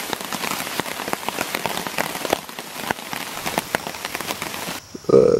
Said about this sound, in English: It is about 1 o'clock in the morning, and it is just raining like crazy.